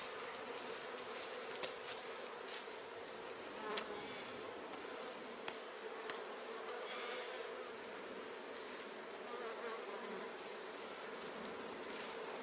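Honey bees buzz steadily and densely around a beehive frame during a queen fertilisation check, a continuous close swarm drone with no talk over it.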